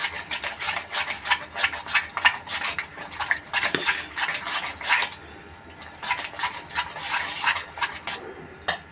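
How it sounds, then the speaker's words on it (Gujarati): A spoon stirs dangelu batter mixed with salt, turmeric and green chilli in a bowl, producing a quick, continuous run of scraping clinks and taps, close and uneven, with no voices. "આપણે બરોબર મિક્સ કરી દઈશું"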